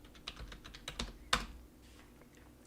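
Quick, light keystrokes on a computer keyboard entering a password, a close, quiet run of taps with one sharper key press near the middle, then fading to near silence.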